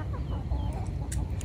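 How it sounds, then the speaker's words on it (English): Chickens cluck softly on a homestead garden plot near freshly dug dirt. The clucks are faint and scattered over a low rumbling background, with no talking. "We just want to keep the chickens out because they won't leave the fresh dirt alone."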